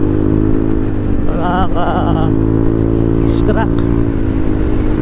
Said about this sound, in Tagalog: Maingay talaga siguro yung ating tambucho, no?